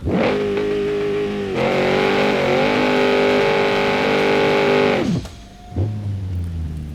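A modded BMW E30 engine in the BeamNG Drive driving game revs hard and holds a loud, strained high-rpm roar for several seconds, then drops off sharply and returns to a low idle burble, with no voices.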